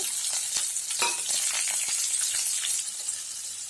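Onion, dried red chillies and curry leaves sizzle in hot oil with a continuous close hiss, broken by faint scrapes and clinks as they are stirred in the pan, with no one talking.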